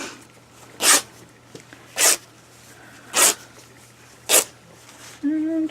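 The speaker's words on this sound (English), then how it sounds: "I'm gonna cut some more off." Fabric for a pillowcase being cut, giving four short, crisp snipping bursts spaced about a second apart, fairly close, followed by a brief different scrape at the end.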